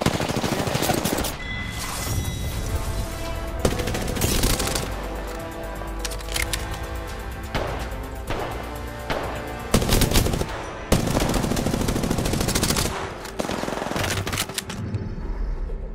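Rapid automatic gunfire in the video game Apex Legends, loud, close bursts of sustained firing separated by short gaps, with a few single shots and no talk.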